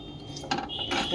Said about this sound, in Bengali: ভালো করে নাড়াবো যতক্ষণ না পর্যন্ত চালটা সেদ্ধ হয়